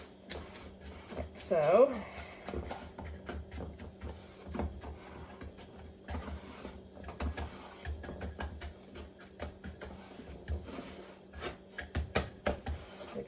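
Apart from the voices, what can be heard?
cup pressing brown sugar cheesecake crust into pan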